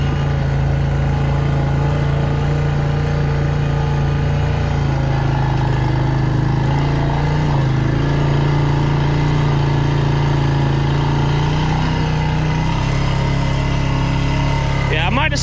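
Four-wheeler ATV engine idling steadily while towing a 15-gallon sprayer on a rural property, a constant low drone running throughout with close talking over it.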